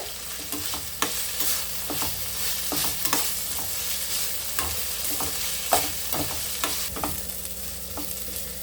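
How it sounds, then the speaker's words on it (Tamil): Onions sizzle steadily in a hot pan over a high flame while a spoon scrapes and stirs in a quick, irregular rhythm, close up and with no talking, while frying for mushroom biryani. "நல்லா ஃப்ளேம் வச்சு கை விடாமல் நல்லா அந்த ஒரு மாதிரி கோல்டன் கலரில் வர அளவுக்கு நல்லா வறுத்துக்கோங்க"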